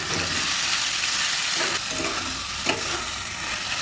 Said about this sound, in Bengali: তেল গরম হয়ে গেছে, চিকেনগুলো দিয়ে দেবো।